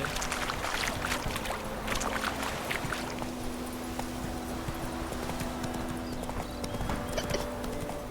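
Horse hooves clip-clopping at a steady canter in The Witcher 3, a continuous rhythmic beat at moderate level over low ambient game sound, with no talk.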